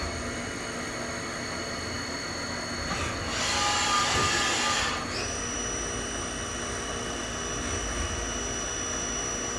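Haas VF3 vertical machining center spindle stepping up in speed, a steady mechanical whine and hum with a louder rushing burst in the middle before settling back to a sustained tone, no talking.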